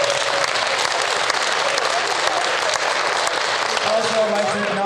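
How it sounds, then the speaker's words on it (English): Sustained applause from an audience at a community program event, steady dense clapping filling the whole stretch with a faint voice or two underneath. "Let's give her a big round of applause."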